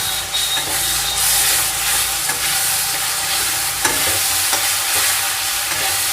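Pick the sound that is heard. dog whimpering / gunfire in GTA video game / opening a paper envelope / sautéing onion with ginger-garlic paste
sautéing onion with ginger-garlic paste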